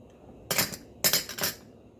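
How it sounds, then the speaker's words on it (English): A Chinese soup spoon set into a bowl of seafood chowder gives two bright clinks, the second a quick double tap about half a second after the first, close and sharp against near silence. "Put the Chinese soup spoon in here."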